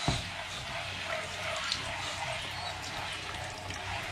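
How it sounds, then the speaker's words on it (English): Demineralized water sprayed or rinsed onto chrome, a steady hiss of running liquid throughout at moderate level, with no speech. "And then I hit it with demineralized water, because normal water actually affects the chrome"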